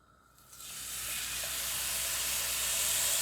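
Pork chops hit a pan of hot sesame oil, the quiet start swelling within half a second into a loud, steady close-up sizzle and hiss that holds without talk.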